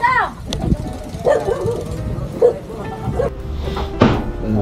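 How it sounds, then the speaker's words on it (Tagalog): A dog barks a few times at moderate distance amid outdoor noise and people talking. "Aso."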